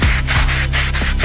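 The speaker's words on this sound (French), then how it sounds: "Le petit coup de canne à poncer" A sanding pole scrubs back and forth over tile grout, loud, close rhythmic rasping strokes repeating about every quarter second.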